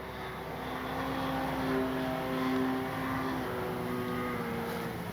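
A Great Planes Ryan STA radio-controlled model airplane on its maiden flight drones overhead with a steady engine whine that rises and falls slightly in pitch as it passes at middle distance.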